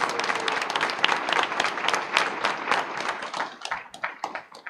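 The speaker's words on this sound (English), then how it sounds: "a round of applause for all of our retirees" Applause for retirees at a school district board meeting: a modest group claps steadily in a fairly close room, the distinct hand claps thinning and fading out toward the end.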